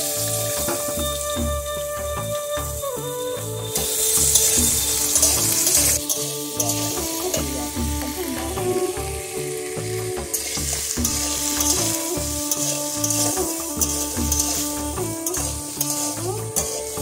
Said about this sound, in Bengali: তেল গরম হয়ে গেছে আলুটা দিয়ে দিচ্ছি আলুটা লাল লাল করে ভেজে দিচ্ছি